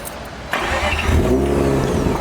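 A 2004 Mazda RX-8 engine cranks and catches at about half a second, then settles into a steady, loud idle rumble close by.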